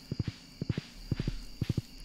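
Horse hooves in the video game Stardew Valley: quick triple-beat clip-clop patterns repeating four times at a steady pace, close and clear over a quiet game background hum.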